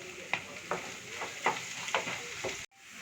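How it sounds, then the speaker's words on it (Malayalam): Two sliced onions frying in a pan for a Kuttanad duck pepper roast crackle softly under about six rhythmic stirring strokes, before the sound cuts off abruptly near the end. "ഇതിലേക്ക് സവാള ഇടാം. ഒരു 2 സവാളയാണ് ഇടുന്നത്."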